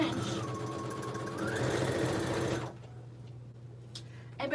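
Sewing machine stitching quilt blocks, a steady close mechanical whir lasting a few seconds, stopping abruptly and leaving a low hum with faint handling clicks.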